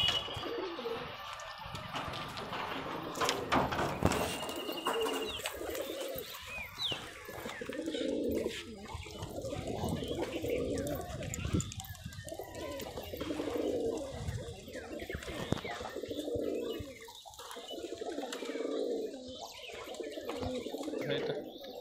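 Rajshahi local Geribaj pigeons coo in repeated soft, throaty rolling phrases at a regular rhythm, fairly close but quiet, with faint voices and background noise around them.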